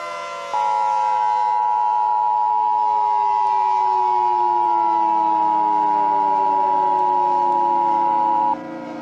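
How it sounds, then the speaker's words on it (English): An Emergency Alert System attention signal sounds as a single loud, steady tone. It holds unbroken for about eight seconds, starts and stops abruptly, and plays alone with no voices. "will follow shortly after the alert tones"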